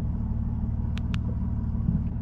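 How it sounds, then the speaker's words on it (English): Steady low rumble of a boat's outboard motor idling on the water, continuous and fairly loud, with a couple of brief faint high clicks over it and no speech. "So now I'm gonna shut the motor off"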